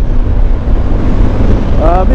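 Heavy wind rumbles and roars against the microphone while riding a Zontes 400D 400cc scooter, loud and constant, with a short rising engine whine near the end.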